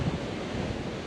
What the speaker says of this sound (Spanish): cascada que es la Junta de los Ríos.